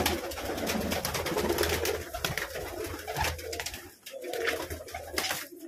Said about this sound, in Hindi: ये देखिए मेरा 18 साल पुराना कबूतर